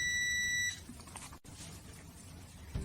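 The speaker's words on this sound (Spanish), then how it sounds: "La mayoría de multímetros emitirán un pitido en caso de que la señal sea buena para indicar que la configuración de continuidad es adecuada" A multimeter on its continuity setting gives one short, clear electronic beep, followed by quiet room noise.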